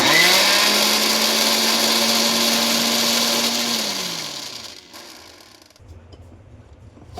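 A small mixie grinder whirs loudly as it blends biscuits, a steady high motor drone that winds down after about four seconds and leaves a low rattle as it stops.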